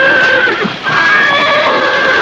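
A horse whinnies loudly and close by in a long, wavering neigh that dips briefly before rising again and trailing off.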